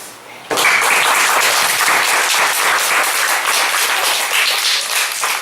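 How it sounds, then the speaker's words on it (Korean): A church congregation breaks into loud, sustained applause, many hands clapping steadily and densely for several seconds. "우리 부모 세대가 아이들을 향해서 마음껏 축복의 박수를 보냈으면 합니다"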